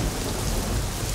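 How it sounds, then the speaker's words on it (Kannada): Heavy rain pours down steadily with a low thunder rumble underneath. The dense, even hiss of the downpour stays loud and continuous, and no one speaks. "ಅಪ್ಪ ಮಳೆ ಜೋರಾಗ್ತಿದೆ"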